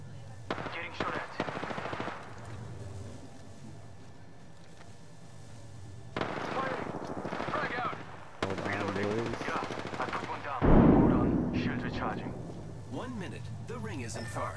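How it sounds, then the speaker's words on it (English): Video game gunfire crackles in loud, close bursts of rapid machine-gun fire, with pauses and a heavier volley near the end, as voices talk over it. "Getting shot at."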